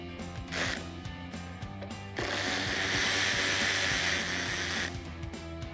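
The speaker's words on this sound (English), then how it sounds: "use our 13 millimeter socket to take off the one on the side" A 13 mm socket on a ratchet removes a headlight bolt on a 2018-2023 Mustang. It gives a steady, soft, close clicking, and a brighter whirring run starts partway through and continues for a few seconds.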